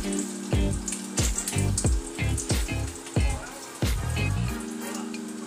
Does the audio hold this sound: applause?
no